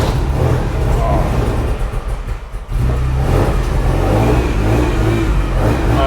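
A carbureted BMW M3 engine with eight throats runs loud and close, its rough, throaty revving holding steady, briefly dipping near the middle, then picking back up into a strong sustained roar.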